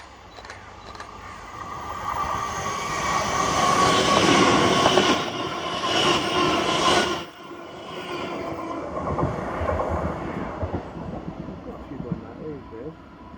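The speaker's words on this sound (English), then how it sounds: "the 1230 ScotRail service to Glasgow Queen Street from Edinburgh with" A ScotRail class 385 electric train on the Edinburgh to Glasgow Queen Street service passes close by, rising to a loud rushing rumble with wheel clatter before fading, while voices talk throughout.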